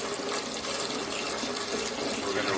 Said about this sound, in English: So we're going to run some cold water on them.